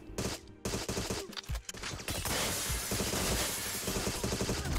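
Rapid bursts of gunfire crackle in the video game Agent 64: Spies Never Die, dense and continuous like a fusillade with brief gaps before a sustained barrage.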